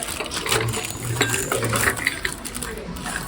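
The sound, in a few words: small ceramic dishes being handled, maybe sushi dishes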